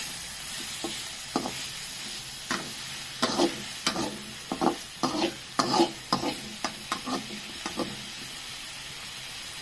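Onion and tomato being stirred and sautéed in a pan, a spoon scraping in a steady series of strokes over a constant sizzling hiss, close and fairly loud, with no talk.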